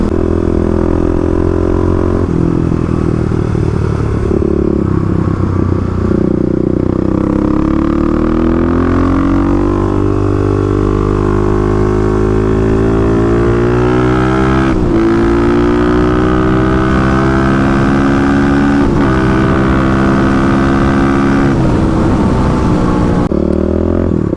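A 35 hp Kawasaki KLX351 motorcycle is ridden hard, its engine droning loud and close throughout, pitch climbing through gears with brief drops at each shift, under constant wind rush, with no voices.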